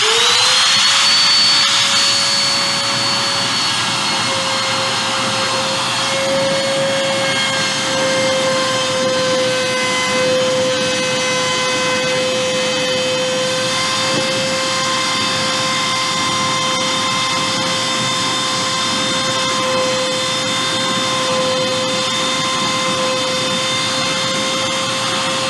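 A hand router is switched on and plunge-cut into wood, giving a loud, steady high-pitched motor whine that spins up at the start and holds a constant tone, with a faint bite in the cut.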